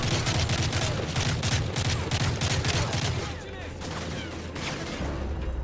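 Dense, sustained gunfire and rapid automatic bursts from enemy soldiers in the Modern Warfare 3 campaign, loud and continuous, with a brief dip midway before the firing swells again.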